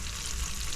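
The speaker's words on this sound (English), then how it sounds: "Fish is frying." Crappie fillets fry in hot oil at a lakeside shore lunch, giving a steady, dense sizzle that fills the brief moment without any talk.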